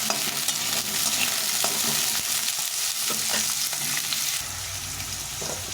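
Potato pieces fry in a hot pan and are stirred continuously, a dense up-close sizzle with frequent scraping and clattering that softens slightly toward the end.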